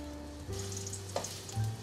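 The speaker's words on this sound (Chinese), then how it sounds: "锅内放入2汤匙的纯白芝麻油，把姜片放进来，慢慢的煸香" Ginger slices fry gently in pure white sesame oil, a soft close sizzle with a faint background hum and a brief clink partway through.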